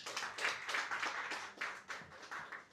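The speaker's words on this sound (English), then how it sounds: "Mr. Isaac Ankoma, please give him a round of applause." Audience at a Ghanaian youth conference on future cities claps in a round of applause, steady and fairly close, with bursts swelling and easing throughout and no voices over it.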